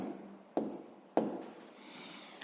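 Pen or pencil writing a math answer on paper, two short sharp taps followed by soft scratching strokes, quiet and close with no talk.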